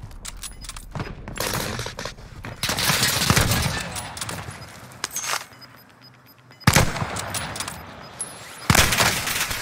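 Gunfire in a shooting video game, several bursts of shots loud and close, with sharp spikes near the end among background game noise.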